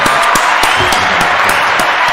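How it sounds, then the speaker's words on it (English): A small group claps loudly and close for a couple of seconds, a dense and even patter of applause with a few sharper individual claps standing out. "Let's get a round of applause for that."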